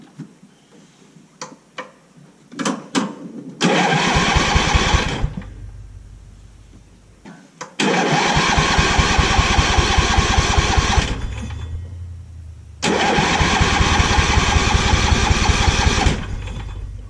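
An old pull-behind lawn mower engine with a dead battery cranks over in three long bursts, a rapid mechanical churning that runs for several seconds each time, separated by short pauses and a few clicks, with no talk.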